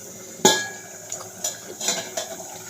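A lid set down on a cooking pot of mung dal over a high flame, one sharp metallic clank followed by several softer clinks and small knocks of cookware, close by with no talk.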